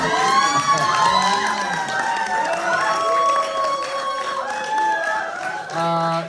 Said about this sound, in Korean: 이 공연장이 지어지고 이런 뜨거운 함성은 정말 오래간만에 들어봅니다